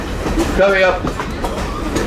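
A Conway Scenic Railroad passenger train runs with a low rumble and faint rhythmic rail clatter, heard from aboard, while a voice speaks briefly over the steady noise.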